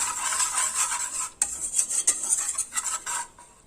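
A metal utensil scrapes and stirs flour roasting in a pan for lasagna sauce, giving a steady close-up rasp with rhythmic strokes and clinks against the pan. No talking.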